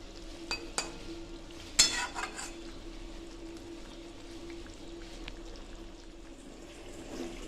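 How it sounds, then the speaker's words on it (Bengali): A small-fish curry of mola or mourala fish in thin gravy simmers in a pot, with a few clinks of a spoon against the pot from stirring early on, then a soft, low bubbling that continues quietly. "একটু নাড়িয়ে দিলাম, একটু ফুটবে যাতে মাছের মধ্যে ঝোলটা ঢোকে।"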